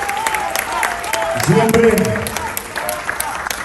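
A festival crowd at an Argentine music event in the USA applauds the singer, with scattered clapping under someone speaking into a microphone and a brief sung or hummed phrase partway through.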